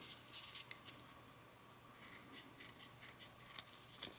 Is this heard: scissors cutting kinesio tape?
yes